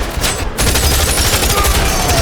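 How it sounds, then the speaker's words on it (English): Heavy automatic gunfire erupts during a movie robbery scene, a dense, loud barrage of rapid shots that runs almost continuously after a brief gap. "An employee presses the emergency button, triggering heavy gunfire."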